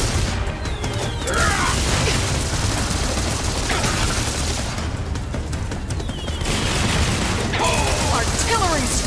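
Repeated booming cannon-like blasts and explosions from the video game Skylanders Imaginators on PS4, dense and loud throughout, with game effects layered over a constant rumble.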